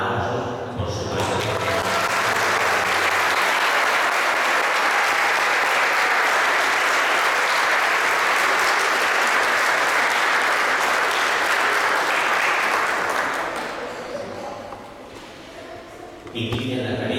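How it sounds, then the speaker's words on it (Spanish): Wedding guests applaud during a Catholic matrimony ceremony, loud sustained clapping from a crowd that swells and then fades away, with an officiant's voice before and after. "Un aplauso, por supuesto."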